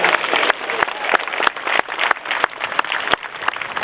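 Audience hands clapping together at a morning speech event at a South Los Angeles sheriff's station, a dense, loud burst of applause filling the clip with sharp individual claps standing out throughout.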